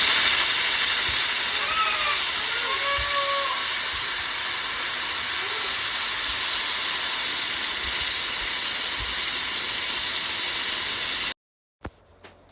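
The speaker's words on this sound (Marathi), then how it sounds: "कुकरची 4 ते 5 शिटी झाली" A pressure cooker of methi and moong dal khichdi lets out a long, steady steam hiss with a high whistling tone that holds for about eleven seconds, then cuts off abruptly.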